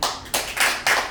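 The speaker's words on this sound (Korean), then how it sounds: "유공자라니까 박수 한번 쳐주십시오." Applause from an audience at a lecture hall talk, a short burst of clapping hands that comes in several loud surges close by, with no voices over it.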